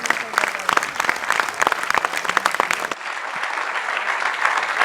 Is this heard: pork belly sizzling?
no